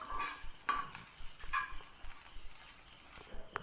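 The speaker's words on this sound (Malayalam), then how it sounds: "ചെറിയ ഫ്ലെയിമിൽ നമുക്ക് വറുത്തെടുക്കാം." Shallots, garlic and curry leaves frying on a low flame: a faint, quiet sizzle with a few soft stirring scrapes and clicks.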